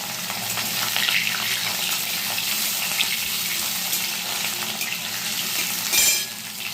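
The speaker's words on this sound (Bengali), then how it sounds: "লম্বা লম্বা কেটে আলু কেটে রেখেছি, সে আলু দিয়ে দিলাম। আলুটা একটু একটু ভাজা হবে।" Long-cut potatoes frying in hot oil with nigella seeds, a steady close sizzle that keeps up throughout, with a brief louder burst of spattering near the end.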